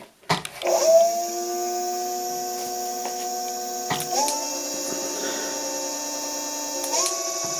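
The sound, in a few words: Kugoo S1 electric scooter motor accelerating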